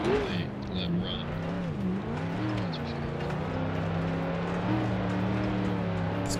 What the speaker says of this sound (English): This car is like super loud.